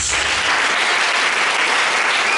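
A church congregation at a Christian worship service applauds Jesus, with dense, sustained clapping that fills the room steadily from start to finish and no voices rising above it.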